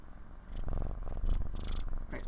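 A cat purrs right against the microphone with a low, rhythmic rumble. Soft rustling and handling bumps can be heard as it touches the mic.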